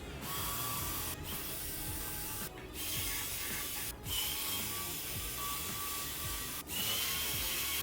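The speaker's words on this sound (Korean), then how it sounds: "우선 Li 뒤편에 있는 나사 6개를 모두 풀어줍니다." A tool removes the six back screws of a ROG Ally handheld with steady, faint ratcheting and whirring. Brief pauses come between screws.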